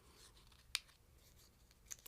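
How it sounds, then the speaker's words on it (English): Scissors cut through a paper die-cut sheet from a papercraft Easter card kit, two short, crisp snips close by in a quiet room, one early and one near the end. "Use my scissors."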